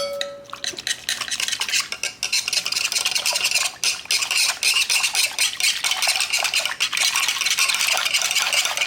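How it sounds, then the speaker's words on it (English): Einkorn sourdough ingredients being whisked together in a bowl, a fast continuous rattling and scraping of the whisk against the sides, close and fairly loud, with no speech. "We're going to whisk that together."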